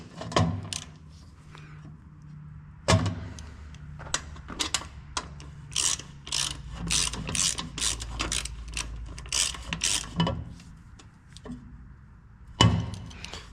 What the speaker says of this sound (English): now you just go ahead and go along, tighten them up